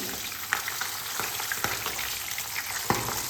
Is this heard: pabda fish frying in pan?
yes